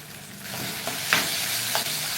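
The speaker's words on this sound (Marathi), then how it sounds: "आणि मसाले चांगले असे परतवून घ्या." Spices frying in a pan for a cauliflower curry, with chilli powder, turmeric and salt just added: a loud, continuous sizzle with a few soft scrapes of a spoon, and no voice.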